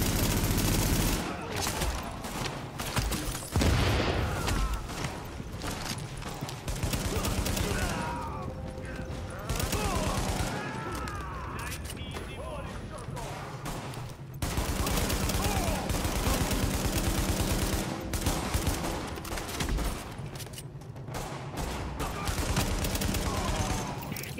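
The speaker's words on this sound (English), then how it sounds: "The escort party's taking heavy fire from the roof." Heavy automatic gunfire from a rooftop gunner in The Division, dense rapid bursts repeating throughout at steady loudness with mechanical clatter mixed in, no talk.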